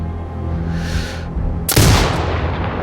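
A sniper rifle shot in the video game Sniper Ghost Warrior Contracts 2 lands as a single loud, sharp crack with a booming tail, following a stretch of steady ambient game noise.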